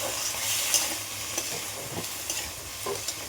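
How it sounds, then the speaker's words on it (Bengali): Chicken stew with papaya, carrot, potato and beans is stirred in a pan, a soft sizzle underneath with a few light scraping strokes of the spoon, close and fairly quiet. "এবারে এটা আমি একটুখানি নাড়াচাড়া করে কিন্তু"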